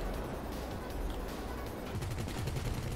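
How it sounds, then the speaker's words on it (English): Many players fire guns at once in GTA V Online, a thick continuous crackle of overlapping rapid shots and automatic bursts, dense and steady, quickening toward the end. "Everyone's just firing all at once."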